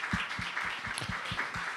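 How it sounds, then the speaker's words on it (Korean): A church congregation claps together in a steady, even rhythm during a worship service, the unison beats quiet and regular across the short stretch. "우리 먼저 하나님께 우리 사랑과 감사의 박수 올려드리겠습니다."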